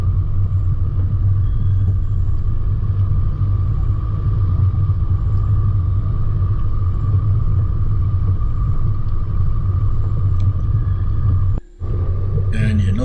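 A car engine rumbles steadily as it drives a rough bush track at night and climbs over obstacles, a loud continuous low drone with a brief dropout near the end.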